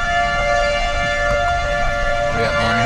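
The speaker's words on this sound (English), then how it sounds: "The siren's going off." A tornado warning siren wails steadily in Ness City, Kansas, during a storm, loud and sustained over a low rumble of wind and vehicle noise.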